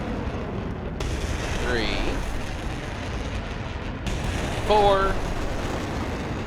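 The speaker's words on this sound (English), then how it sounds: "And first missile's away." Artillery missiles launching in DCS World Combined Arms, two roaring whooshes with rising streaks a few seconds apart, under a man counting aloud.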